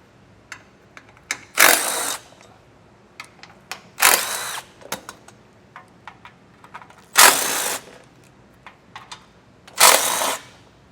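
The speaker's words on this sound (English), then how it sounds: "I'm going to use a 13mm socket." A power tool with a 13mm socket backs out underbelly panel bolts on a 2024 GMC Canyon, sounding as four loud, short whirring bursts spaced a few seconds apart, with light clicks and clatter in between.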